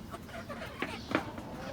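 Young chicks, nearly the size of grown hens, make a few soft clucks and short calls while being moved back in the morning, with a couple of brief louder peeps standing out over quiet background.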